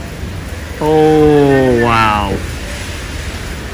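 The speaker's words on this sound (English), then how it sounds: "Look at the rain coming down." Heavy rain pours down steadily in a Costco parking lot during a thunderstorm, a constant close hiss throughout while a voice briefly exclaims in the middle.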